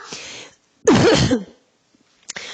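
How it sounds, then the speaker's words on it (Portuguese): A single harsh, throaty cough close to the microphone, with a short rough clearing sound before it and brief quiet around it. "vocês me desculpem por essa tosse"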